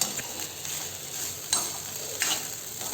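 Coconut rice stirred in a pan over a high flame, a steady close sizzle of frying with a few scraping strokes of the spoon against the pan, no voices.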